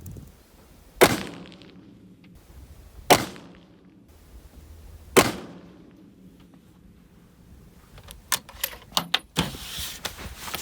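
Hunting rifle fired at an outdoor range: three loud, sharp reports spaced about two seconds apart, each trailing off in a long echo, followed by a cluster of quieter clicks and clatter, likely the bolt being worked.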